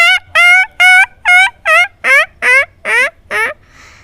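A man mimics an injured dog yelping, producing a rapid series of nine sharp, high, harmonic cries in steady rhythm, loud and close, ending abruptly.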